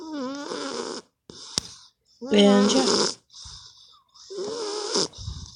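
A dog snores nearby in rhythmic, rasping pulls, each breath a few seconds long and separated by short pauses, while a person speaks briefly over it.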